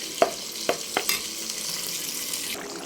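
Squid gravy bubbles and hisses steadily in a pan, with a few sharp clicks early on, heard up close with no speech.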